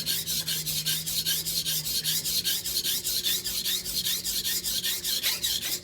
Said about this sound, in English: You need this diamond cutting power to break through that stuff.